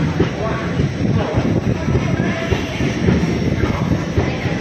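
The 12311 Netaji Express rolls along the tracks near Aligarh, heard from inside the coach as a loud continuous rumble with faint rhythmic wheel clatter, while people talk over it.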